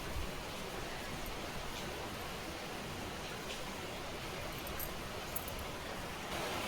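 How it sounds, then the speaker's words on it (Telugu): Heavy rain has just begun outside an apartment: a dense, even hiss of falling water at moderate distance, steady and unbroken throughout with no voices. "ఈరోజు వర్షం అయితే బాగా తీవ్రంగా వస్తుంది, కానీ ఇప్పుడే స్టార్ట్ అయింది."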